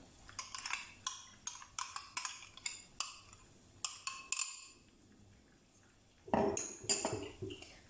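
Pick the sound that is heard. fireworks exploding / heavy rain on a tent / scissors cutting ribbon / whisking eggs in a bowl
whisking eggs in a bowl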